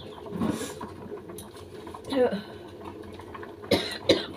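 A single short cough close by, with other household noises and murmured talk before and after it.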